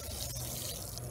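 Water poured onto garden plants such as corn and zucchini, a faint, continuous trickling and splashing that stays soft and even for the whole short moment.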